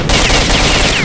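Rapid automatic gunfire in the S.T.A.L.K.E.R. Shadow of Chernobyl video game, a dense loud burst of shots filling the whole moment without pause.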